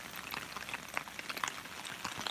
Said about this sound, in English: this is the first decent rainfall we've had in a while, and the partial first mini swale is nicely filling